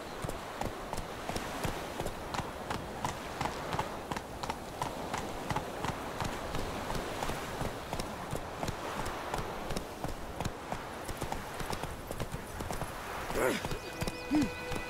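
Geralt's horse Roach galloping in The Witcher 3, a steady clip-clop of hooves running on without a break under a bed of ambient game sound.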